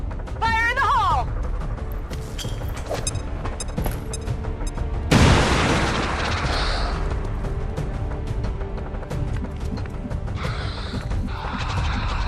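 A grenade explodes in XCOM 2: War of the Chosen as a single loud, broadband boom midway through, amid mechanical clicks, scattered game effects and voices talking.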